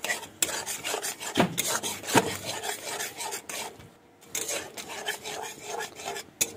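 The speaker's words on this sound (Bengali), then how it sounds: "তো ভালোভাবে মিক্স করে নেবো" Stirring a spice paste for Bengali rui fish curry makes close, continuous rasping scrapes of a utensil against the pan, in quick repeated strokes with one brief pause partway through.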